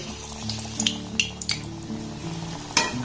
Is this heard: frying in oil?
yes